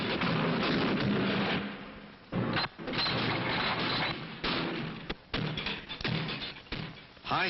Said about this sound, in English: firing, to make sure the magazines and mechanisms of all multiple-shot rifles and shotguns are in perfect working order